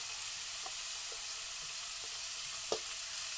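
Chopped large capsicum and carrots being stirred in a pan, a steady soft sizzle with a few faint scraping clicks from the spoon, close and quiet with no voices.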